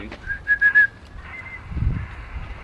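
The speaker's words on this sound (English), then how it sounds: "We can hear the whistle coming back." A thin whistle tone rises in a few quick pulses, then a fainter, steadier whistle follows as it echoes back through the QO-100 satellite, ending with a low rumble.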